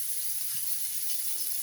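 Bitter gourd frying in a pan, a faint, even, high sizzling hiss that holds steady without pause.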